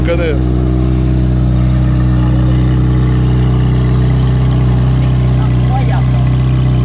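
A Ferrari engine idles close by, a loud, steady low hum with a firm, constant drone running throughout, while people talk over it.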